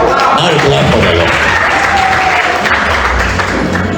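Loud, dense clapping from an audience at a student association handover and inauguration ceremony, continuous and even throughout with a faint murmur of voices beneath.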